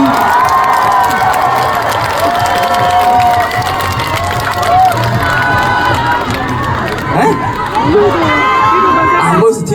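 A large crowd at a Korean outdoor festival concert cheers and shouts with scattered clapping, loud and sustained throughout, with high excited voices ringing over the roar.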